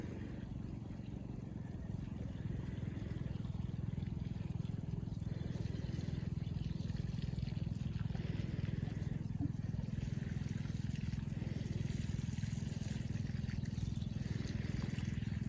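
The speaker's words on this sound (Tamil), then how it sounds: "இது தண்ணி விட்டுன்னு இருக்கிறேன்" Water pours steadily onto vegetable plants in a home garden in France, a continuous low rushing trickle at moderate volume that runs unbroken from start to finish.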